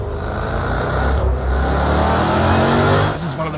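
A Jaguar road car engine in Project CARS 2 revs hard and loud, a sustained roaring exhaust note rising and holding, ending with a sharp shift or blip.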